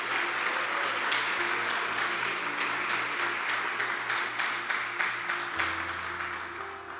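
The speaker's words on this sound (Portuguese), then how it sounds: "aplauda o nome de Jesus" Church congregation applauds during a sermon, sustained crowd clapping over a low organ or keyboard drone that shifts pitch, fairly distant and even throughout.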